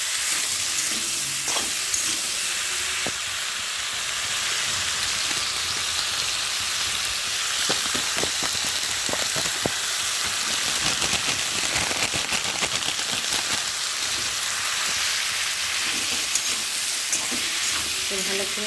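Cumin powder and ground ginger paste sautéing in a pan for a prawn and taro curry, giving a steady close hiss of frying with scattered scraping and clicking of a spatula stirring throughout.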